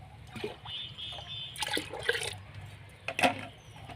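Strained water from homemade liquid plant fertilizer trickles and splashes in short bursts, poured quietly nearby against a low background hum.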